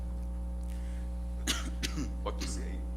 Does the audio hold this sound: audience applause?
no